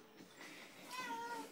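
A cat meows once, close and fairly soft, with a short rising and falling cry in a quiet room.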